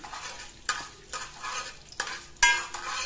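Coarsely crushed coriander seeds and mustard seeds fry in hot oil, giving a continuous crackling sizzle. Several bright bursts rise as a spoon stirs them at roughly half-second to one-second intervals, with no speech.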